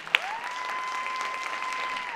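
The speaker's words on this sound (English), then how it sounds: "Give yourself a round of applause." A library audience at a poetry slam gives sustained applause, a steady wash of clapping with a sharp tone running through it and one brief sharp spike near the start.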